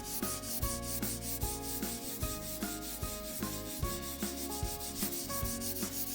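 Charcoal stick rubbed back and forth across drawing paper to shade a cylinder, a steady dry scratchy rasping in repeated strokes, close and fairly quiet with no talking.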